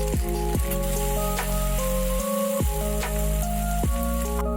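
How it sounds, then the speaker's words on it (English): Crab sauce is stirred into setting egg whites in a hot pan, giving a steady soft sizzle beneath prominent background music. "Now add the crab sauce in and keep stirring."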